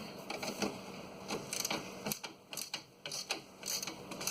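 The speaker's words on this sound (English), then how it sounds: "we can ratchet wrench it out of there" A ratchet wrench works a bolt loose on the badly rusted frame of a 2012 Chevy Silverado 1500 4x4, with rapid bursts of close, rhythmic metallic clicking.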